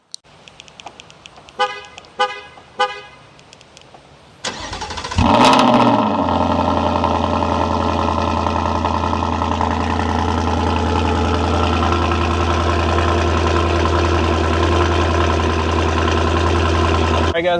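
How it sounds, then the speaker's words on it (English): A Ford Mustang GT S650 with an MBRP race exhaust fires up after a few short beeps, roaring loudly on start and settling into a deep, steady, rumbling idle. "let's do this cold start real quick"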